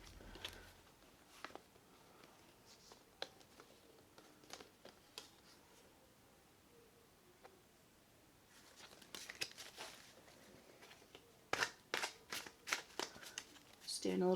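Tarot cards being shuffled, quiet intermittent flicks and riffles followed by a louder burst of rapid card snaps near the end, close by.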